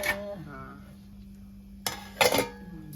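A lid is set onto a cooking pot of shellfish curry, with a couple of short metallic clanks near the end after a quiet stretch and a brief voice at the start.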